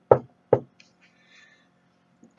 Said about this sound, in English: So she walks down the hall, knocks on the door.